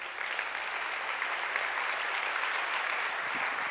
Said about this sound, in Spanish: ¿Le puedes dar un aplauso a Dios?